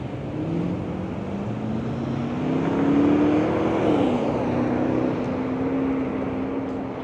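Old cars rolling past on a San Fernando Valley street beside the Cobalt Cafe during the filming of an 1980s driving scene: a steady engine drone swells as a vehicle passes close by, then eases off to a constant hum.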